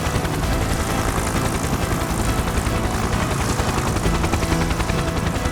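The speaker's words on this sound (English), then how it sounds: "the helicopter arrived at the house with the winch lowered" Steady, loud rotor and engine roar of a helicopter hovering close by, a continuous dense drone with rapid choppy pulsing throughout.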